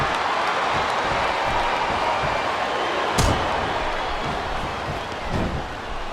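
A capacity crowd roars steadily in the wrestling arena of WWE Smackdown vs RAW 2008 during a submission match, a dense continuous wash of noise broken by one sharp slam midway.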